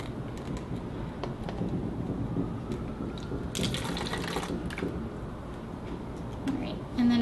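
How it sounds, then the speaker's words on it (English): About 60 milliliters of white vinegar is poured from an Erlenmeyer flask into a bottle, giving a steady, close splashing and trickling of liquid that continues throughout and briefly swells midway. "I'm going to pour this into a bottle"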